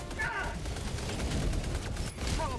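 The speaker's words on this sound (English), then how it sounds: "let me pop a Gatling gun." A Gatling gun sentry fires in Helldivers 2, a dense, continuous rattle of rapid shots blending into a steady roar of battle noise, moderately loud throughout.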